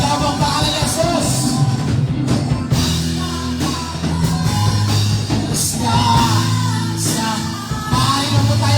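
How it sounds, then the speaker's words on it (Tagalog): Church congregation loudly shouting the name of Jesus during a Spirit-filled worship service, a sustained wall of many overlapping voices, close and loud throughout. "Sigaw mo ang pangalan ni Jesus"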